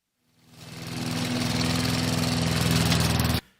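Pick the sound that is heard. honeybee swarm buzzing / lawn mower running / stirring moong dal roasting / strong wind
lawn mower running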